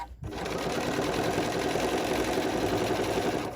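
A sewing machine stitching steadily with its needle down function, a fast, even mechanical whir and rapid clatter running loud and close after a brief start.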